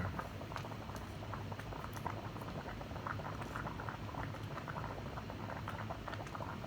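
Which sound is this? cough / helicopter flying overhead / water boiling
water boiling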